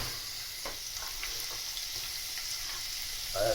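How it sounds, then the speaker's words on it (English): Bacon sizzles steadily in a hot pan, a dense crackling hiss with occasional louder pops and a soft scrape near the end. "In with the bacon. Hear that starting to sizzle up now."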